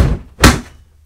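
A Milwaukee Packout tool box thuds once into place on its Packout dolly, a single close, solid plastic knock after a brief shuffle, with no talking.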